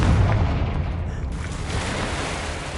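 A Confringo fire spell explodes in Hogwarts Legacy on PS5, a loud, deep booming blast that rumbles and crackles steadily for nearly three seconds with no voices over it.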